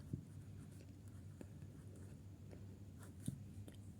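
Marker or chalk writing on a board during a Hindi geometry lesson on a cone, with soft scratchy strokes and a couple of sharper taps over a steady low hum, no voice present.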